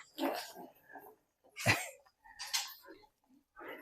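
A dog gives a few short, sharp barks and whimpers nearby, spaced out with brief quiet gaps between them.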